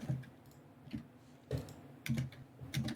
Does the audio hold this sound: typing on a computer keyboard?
yes